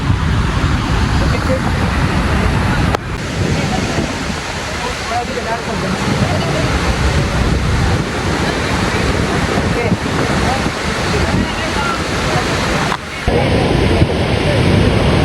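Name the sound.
Kalu waterfall in monsoon, Malshej Ghat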